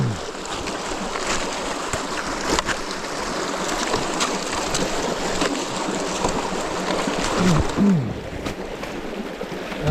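A creek flows steadily at a trail crossing, a close, continuous rush and burble of water with a few brief splashes and knocks toward the end.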